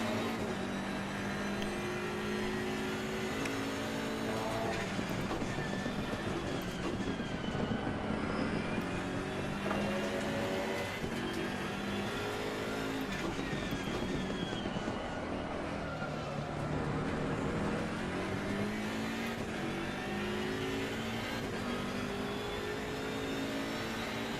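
GT3 race car in Assetto Corsa Competizione at Imola, a loud continuous engine howl climbing through the revs and dropping sharply on upshifts and braking, repeated over a long stretch at near top speed.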